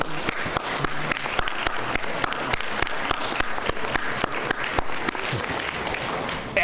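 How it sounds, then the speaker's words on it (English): Audience applause at an elementary science fair awards ceremony, honoring teachers and parents: a dense, steady wash of clapping from a large crowd filling the whole stretch, with sharper individual claps popping out near and far. "give them a great round of applause"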